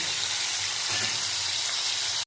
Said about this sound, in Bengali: আর এবার ভালো করে আমি তেল গরম করে এতে ভেজে নিচ্ছি।